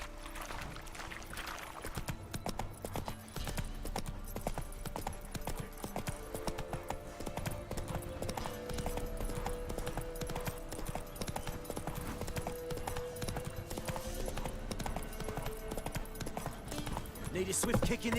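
Roach the horse gallops steadily in The Witcher 3, a continuous rhythmic hoofbeat clip-clop that stays loud throughout, layered with game ambience and music.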